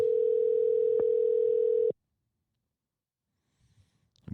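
A steady telephone dial tone hums loud and unbroken for about two seconds, then cuts off abruptly into near silence, with faint handling noises near the end.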